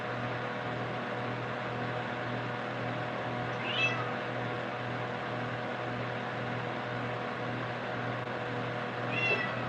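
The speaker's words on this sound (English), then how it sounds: "This right here is a cat. It is a real life cat." A cat meows twice, faint and brief, at about the four-second mark and again near the end, over a steady low hum and background hiss in a room picked up by a security camera.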